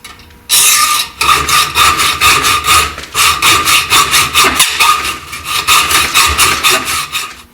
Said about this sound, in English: we cut it with a hacksaw just across the top, making sure that we don't go into the actual flywheel itself